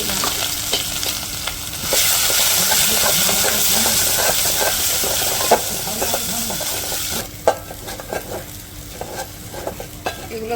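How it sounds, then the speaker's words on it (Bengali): Ginger and cinnamon sizzle in hot cooking oil, a steady frying hiss with stirring clatter that swells after a couple of seconds and then thins out near the end, with no talking. "তেল দিয়ে দিতেছি যে আদা রাখলাম আর দারচিনি"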